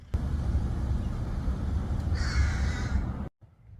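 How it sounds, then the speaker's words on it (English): A crow caws once from nearby outdoors, a bright harsh call standing out over steady low wind rumble before the sound cuts off. "We got ourselves a crow, guys."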